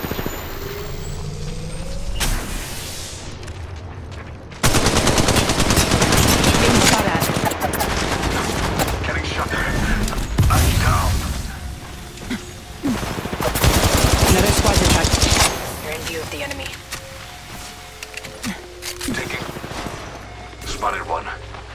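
Loud bursts of automatic gunfire in Apex Legends Mobile on World's Edge, rapid close volleys in several long stretches with short pauses, alongside game effects and a voice speaking.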